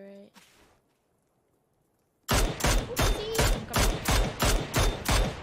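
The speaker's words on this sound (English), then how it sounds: "there's the two guys in the back shooting me" Rapid automatic gunfire from the video game PUBG, a sudden loud burst of evenly spaced shots after a near-silent pause, with a brief earlier sound at the start.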